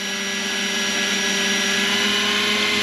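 A 600-size Roban Hughes MD500 scale RC helicopter spins its rotor at its highest idle-up setting of 1600 RPM, a loud, steady, unbroken whine and hum with no talk.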